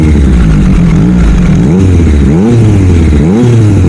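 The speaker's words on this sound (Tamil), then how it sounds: "ஸோ இதோட எக்ஸாஸ்ட் நோட்டு எப்படி இருக்குன்னு பாருங்கள்." A Triumph Street Triple RS 765 motorcycle revs hard through its exhaust, the engine note rising and falling in several sweeping blips, loud and close with no talk.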